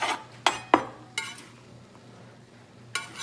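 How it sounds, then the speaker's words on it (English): Meat for a stroganoff goes into a hot pan and is stirred, a few sharp utensil scrapes and clinks against the pan over a faint steady sizzle. "So now we'll get our meat in there"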